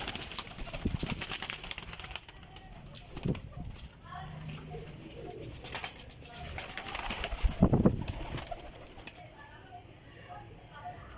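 Pigeons kept by a fancier, champion racing birds, coo in low repeated bursts across the scene, with someone talking intermittently over them and some shuffling and handling noise.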